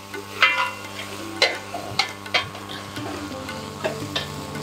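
Mutton for Delhi-style nihari sautés over a slow flame, a soft low sizzle broken by several sharp scraping strokes of a spoon against the pot, heard up close with no talking.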